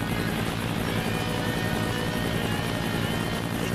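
Constant thudding rotor drone of a helicopter in the Teenage Mutant Ninja Turtles 2003 video game, steady and loud throughout with a buzzing engine tone and no talking.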